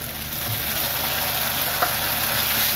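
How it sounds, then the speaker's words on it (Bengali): A ground spice paste, stone-ground and fried in oil after rice for a vegetarian banana-stem curry, gives a steady, even sizzle with a faint stir, close and continuous with no talk. "এটাকে এবার ভাজা ভাজা করে নেব। মশলাটা আমার ভাজা ভাজা করা হয়ে গেছে।"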